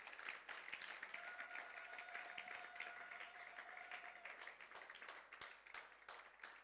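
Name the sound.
applause from church audience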